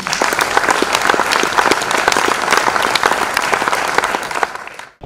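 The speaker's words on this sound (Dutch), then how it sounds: "Applaus voor Marianne Mudder" A literary café audience gives loud, close applause, a dense, steady round of clapping lasting about five seconds before cutting off abruptly.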